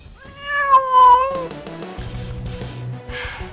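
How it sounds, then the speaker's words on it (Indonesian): A cat gives a loud, clear drawn-out meow near the start, followed by lower rumbling indoor noise. "Cuma kucing."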